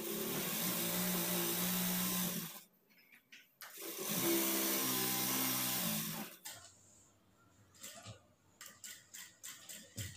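A sewing machine stitches a princess-cut blouse in two loud continuous bursts of motor whir, each a few seconds long, separated by a short pause, then gives way to scattered clicks and handling noises near the end.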